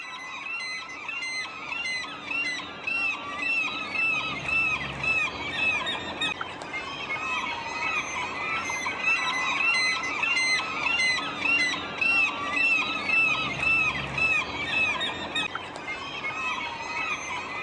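Gulls calling over a salmon spawning river on Canada's Pacific coast, many overlapping shrill squeals and squawks in a dense, continuous chorus with no talk.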